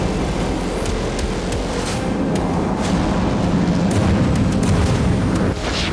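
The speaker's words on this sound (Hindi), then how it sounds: "ब्रिटेन ने नई cutting edge cruise missile spear का टेस्ट किया है।" Test firing of a British SPEAR cruise missile launched from a Eurofighter Typhoon in Sweden: a loud, continuous roaring rumble that holds steady throughout, with no speech.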